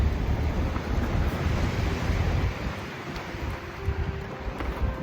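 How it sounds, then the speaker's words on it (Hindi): Steady broadband rush of a mountain river flowing far below near Badrinath, among deodar trees, a continuous wash with faint wind, no voices. "नीचे नदी का बहाव"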